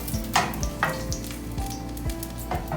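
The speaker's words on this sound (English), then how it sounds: "the garlic and the onion, they are roasted like this" Garlic and onion roast in a pan with a steady, close sizzle, crackling and small pops, with occasional scrapes from stirring and no one talking.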